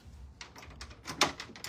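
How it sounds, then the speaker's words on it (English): A door is opened to let someone in. Faint clicks and clacks from the latch and handle come in a quick irregular series, with one sharper knock near the end. "let me let Carrie in the door here"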